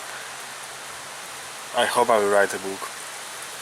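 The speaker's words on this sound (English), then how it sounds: "Oh, rain, rain, rain, heavy rain." Heavy rain hisses steadily and evenly from start to end, with a person speaking briefly over it in the middle.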